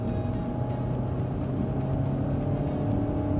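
Steady engine drone and tire roar from a 300-horsepower car lapping a race circuit, heard from inside the car, constant and loud with no talking.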